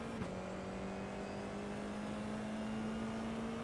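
F4 race car engine in the iRacing sim at the Nürburgring Grand Prix circuit, a steady droning tone after a brief downshift blip, then holding and rising gently under throttle, constant and fairly faint with no voices.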